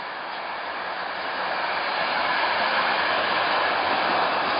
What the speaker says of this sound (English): Alright, then here comes the tram.